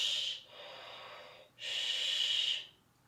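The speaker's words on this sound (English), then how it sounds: "shh, this little whooshing" Ujjayi breathing in a yoga session, air drawn through a slightly constricted throat as a soft whooshing hiss: two long breaths, close and steady, with a brief quieter pause between them.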